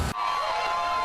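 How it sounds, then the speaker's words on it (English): Gamecock basketball fans cheer outside a hotel in downtown Greenville, a dense, sustained crowd roar with whoops that cuts in abruptly and stays loud throughout. "Fans outside AC Hotel cheering on"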